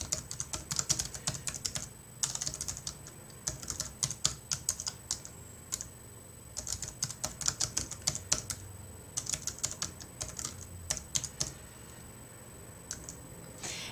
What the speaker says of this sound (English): I'm typing in one keyword.